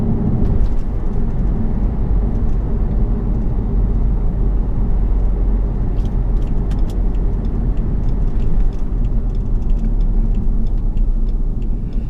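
Inside a 2005 BMW 525xi E60 on the move, a steady low road rumble and engine drone fills the cabin, with faint ticks and rattles on top and no one speaking.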